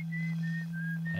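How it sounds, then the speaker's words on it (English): A character in the Outer Wilds video game whistles on the moon, a thin distant melodic tune held over a steady low hum, brief and faint with no talk. "that's Esker whistling on the moon"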